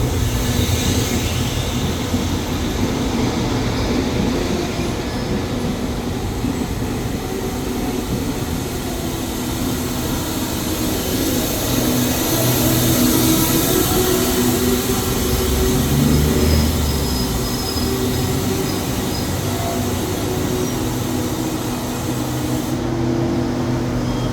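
Special Express 32 train pulling into Ban Pong station in Thailand: a loud continuous rumble of rolling wheels and carriages fills the whole stretch, with a steady roar and hiss and no talking.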